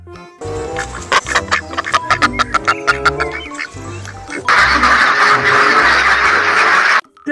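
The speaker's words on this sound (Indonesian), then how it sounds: "ada bebek" Cartoonish duck quacking in a children's animated toy-cleaning scene: a run of loud, bright repeated quacks, followed by a sustained noisy burst before cutting off.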